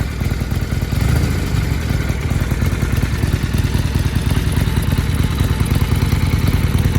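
A 2020 Harley-Davidson Iron 1200 Sportster XL 1200NS with stock quiet exhaust runs at a steady idle, a loud close low throbbing rumble with mechanical clatter, continuous throughout with no talking.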